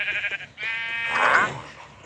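Sheep from the Minecraft game bleat in a wavering, harmonic call that swells near the middle and fades, preceded by a softer bleat, with no talking.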